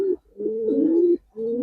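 Giribaz and coloring pigeons coo in two clear, close throaty phrases separated by a brief pause.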